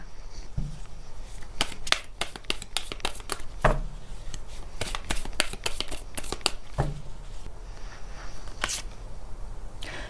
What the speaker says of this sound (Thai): ต่อไปแม่หมอเปิดไพ่ออร์เคิลเสริมให้นะคะ